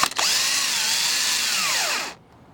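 Power drill driving a coated 1.5 to 2-inch screw into wood, a loud close whine sustained for about two seconds, pitch dropping slightly as the screw snugs down before stopping abruptly.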